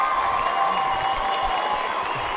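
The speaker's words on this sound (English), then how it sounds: "that almost sounded like a standing ovation clap" A crowd's applause sound effect resembling a standing ovation, with dense, continuous clapping and faint cheering at a steady level.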